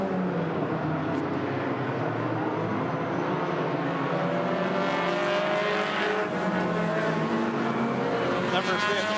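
Hornet race cars lap Agassiz Speedway in an enduro roval championship race, their engines a steady, continuous roar throughout, with a commentator talking over them.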